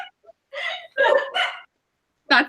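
A tiny six-pound dog gives a few short, sharp yips and barks close by, with brief pauses between them.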